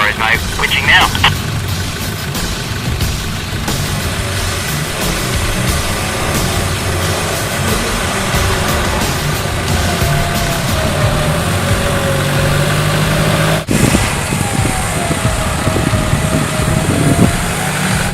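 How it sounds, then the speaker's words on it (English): A 4x4 vehicle's engine runs steadily and loudly while its winch hauls a double-line pull, a continuous drone with a faint rising whine through it, close by, with voices talking over it. "No worries, mate, winching now."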